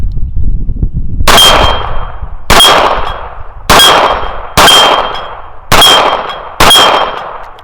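A Colt Cobra revolver fires six spaced shots at an outdoor range, each a loud sharp crack followed by the bright ringing clang of a steel target plate, with the ring fading between shots.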